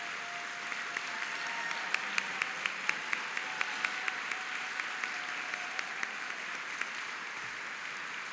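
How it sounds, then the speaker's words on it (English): An audience at CALV's 60th anniversary annual meeting applauds the staff, with sustained, even clapping and a few sharper individual claps standing out, filling the whole stretch. "they all deserve that round of applause"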